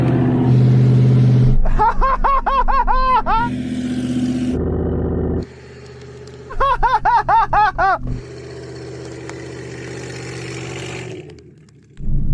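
A Suzuki Jimny and a Hummer H2 launch side by side in a drag race, engines revving loudly through rapid rising gear pulls in two bursts, with steady engine drone between them and a brief drop at the end.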